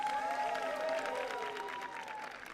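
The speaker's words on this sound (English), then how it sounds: "There's a smattering of applause on the National Pit Straight." A smattering of applause from spectators along the National Pit Straight at a Formula Student dynamic event, a steady spread of distant clapping and crowd noise that holds for the whole moment and eases slightly near the end.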